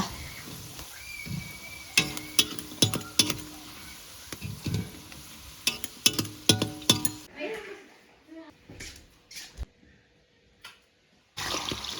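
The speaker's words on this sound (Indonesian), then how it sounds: "Ini udah jirangan kedua goreng kentangnya." Sizzling oil from frying potatoes runs underneath clinking and scraping of utensils against a pan, with occasional voices and a short quiet gap near the end.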